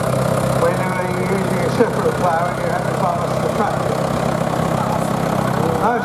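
A paraffin-fuelled 1950s Ferguson light tractor runs steadily at a ploughing match at Southrop Farm, Lechlade, its engine droning continuously at a moderate distance while someone talks over it throughout.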